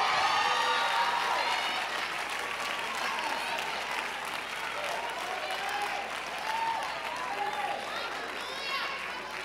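A large church audience claps and cheers continuously, dense applause filling the space with excited voices and shouts mixed in throughout.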